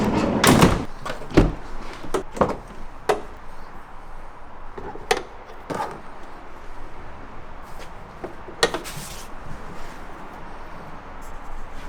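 Full cutaway rear doors on a detailing van opening and closing, with a series of sharp latch clunks, handle clicks and heavy thuds spread irregularly across the stretch, close and fairly loud, with no talking.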